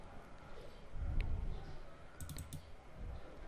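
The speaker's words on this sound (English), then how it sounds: "So let's try to open again by just double left clicking it." A computer mouse double left-clicks on a Windows computer: a few close, crisp clicks in quick succession against faint room noise, with no talking.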